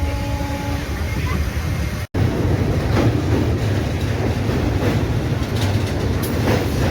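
The Sealdah–Puri Duronto Express rumbles loudly and continuously as it crosses the Kolaghat bridge over the Rupnarayan river, with faint clickety-clack and one brief dropout early on.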